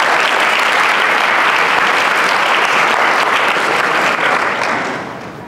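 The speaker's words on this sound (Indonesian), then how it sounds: "Tepuk tangan buat Ibu Sumarekon" Loud, sustained applause from a school audience of students honoring a guest speaker, a thick wash of many clapping hands that holds steady and then tapers off near the end.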